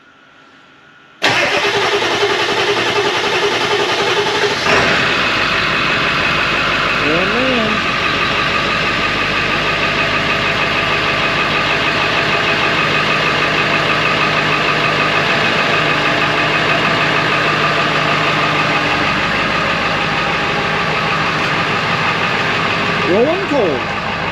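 An old Ford 7.3 diesel pickup cranks briefly and catches, then settles into a loud, steady clattering idle that runs on close by; a voice speaks faintly over it near the start.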